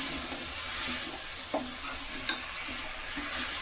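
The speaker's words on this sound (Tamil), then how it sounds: "இப்போ இது ரெண்டும் மிக்ஸ் பண்ணி ஒரு 5 நிமிஷம் வேக வச்சுருவோம்." Avarai beans and potatoes being stirred in a pan, with a soft continuous sizzle and a few light scrapes of the spoon, fairly quiet and with no talk.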